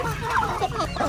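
Chickens clucking on a poultry farm in General Santos City, a close, dense chorus of overlapping clucks and fowl calls lasting about a second, with a voice talking over them.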